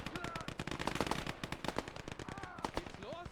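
Rapid bursts of machine-gun and rifle fire rattle through a World War II battle in the strategy game Gates of Hell: Ostfront, with dense, fairly quiet repeated volleys.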